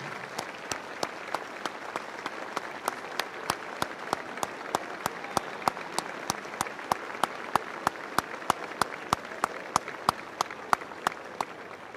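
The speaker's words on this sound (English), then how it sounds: "stand and give them a round of applause" Audience at a Lutheran high school event giving faculty and staff a standing round of applause: a steady, even wash of clapping with sharp, rhythmic claps close to the microphone keeping a regular beat throughout.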